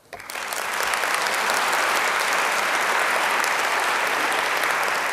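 An audience at an awards ceremony breaks into applause, rising quickly from quiet into a sustained, dense wash of clapping that holds steady to the end.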